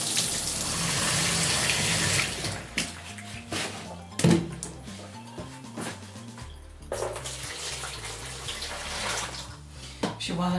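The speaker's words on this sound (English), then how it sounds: "I'm gonna fill this with water. Wish it's hot." Tap water running into a small film-processing tank or container, a steady broadband rush through most of the clip with clunks and handling knocks, briefly pausing and then resuming.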